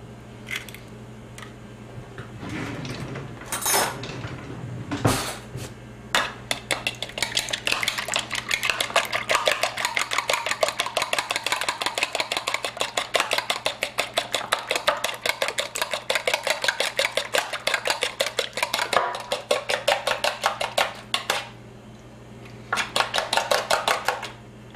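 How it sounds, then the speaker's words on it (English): Two small eggs are whisked in a bowl, a rapid and steady clicking of the whisk against the bowl that goes on for many seconds after a few knocks at the start. "We want those well beaten."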